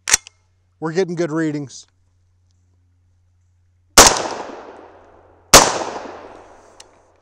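Two loud, sharp 300 BLK rifle shots firing subsonic powder-coated bullets, about a second and a half apart, each with a long decaying echo; a brief voice speaks before them.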